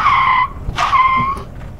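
A classic Rolls-Royce Bentley S2 skids under hard braking, its tyres letting out two loud, close squeals, each a long wavering screech that fades into quiet.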